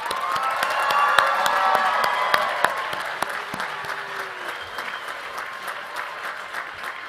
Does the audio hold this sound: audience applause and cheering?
yes